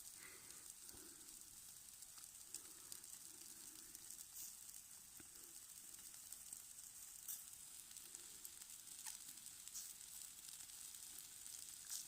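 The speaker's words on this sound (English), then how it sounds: "Sizzling away, lovely." Steady, close sizzling of chicken stir fry in a pan at a wild campsite, a continuous crackling hiss with no talking.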